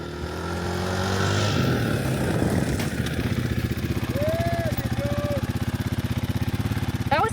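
KTM 500 EXC-F dirt bike on sand, engine revving and then dropping to a rapid pulsing idle as the rear brake locks and the bike skids to a stop, loud and close.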